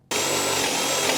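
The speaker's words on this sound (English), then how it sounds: "I'm going to drill a hole through here to allow for my wire to pass through the back brace" A power drill starts abruptly and runs at a steady high whine, loud and close, drilling a hole through a light fixture's back brace, with no talking.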